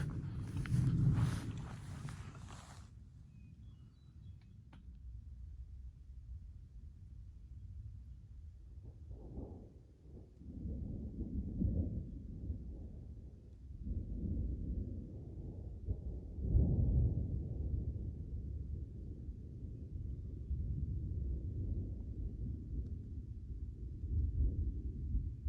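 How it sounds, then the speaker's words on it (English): Thunder from a storm moving in over the Black Mountain Crest Trail in July rolls as deep, low rumbles, distant and drawn out, swelling and fading again after a brief noisy burst at the start. "Appears this storm is moving in on us."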